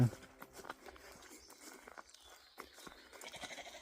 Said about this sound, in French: ces brebis font partie de l'éco-pâturage de Mauches-sur-Loire